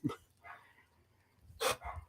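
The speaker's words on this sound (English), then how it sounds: "I hope you guys don't hear the dog barking in the background" A dog barks a few times in the background at dinner time, with short, separate, moderately faint barks and quiet gaps between them.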